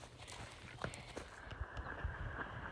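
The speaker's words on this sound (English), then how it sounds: "Where are you going with all these horses?" Several horses walk past on a mountain trail along the Continental Divide, their hooves clip-clopping in an uneven rhythm, near and fairly distinct over a soft outdoor background.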